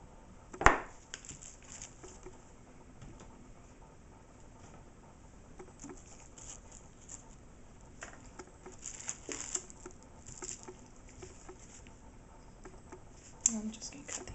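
Bars of coconut hot process soap are cut by hand, with soft scraping and occasional sharp taps of the blade through the soap, faint and close, under a quiet indoor background while a person speaks.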